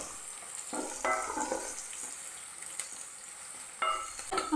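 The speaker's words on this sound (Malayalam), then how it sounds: "എരിവിനാവശ്യമായിട്ടുള്ള പച്ചമുളക് നല്ലപോലെ ഒന്ന് വഴറ്റിയെടുക്കുക." Green chillies and onions sautéed in hot oil, with a gentle continuous sizzle broken by a few louder bursts as the spoon stirs, close and fairly quiet, with no talking.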